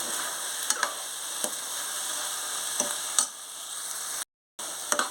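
Mutton keema frying in oil that has separated out, with fresh coriander added, giving a steady close sizzle broken by a few light stirring taps and a brief cut to silence.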